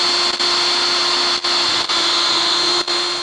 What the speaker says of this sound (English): We're just going to mark the holes and then drill it and put the screws in.